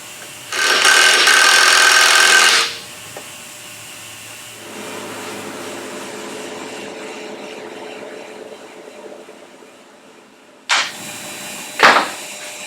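Motorcycle flywheel being pulled off a Beta engine with a KTM puller: a loud sustained whining burst from a power tool, then a steadier mechanical drone, ending with two sharp close clanks.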